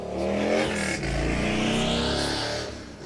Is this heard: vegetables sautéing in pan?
no